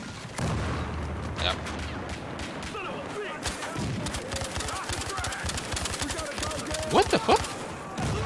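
Battlefield Hardline light machine gun fires in rapid, loud bursts with heavy rhythmic rattling, punctuated by a few sharper cracks, while a player talks over the shooting.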